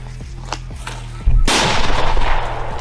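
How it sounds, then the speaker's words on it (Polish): A flashbang stun grenade goes off outdoors as a single sudden loud blast, followed by a long rumbling, crackling decay. "To jest flashbang?"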